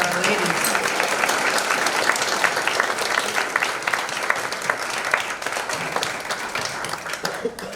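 An audience at a City Band summer evening concert applauds the band's women performers: dense, steady clapping at close range fills the whole stretch with no letup, tapering only slightly near the end.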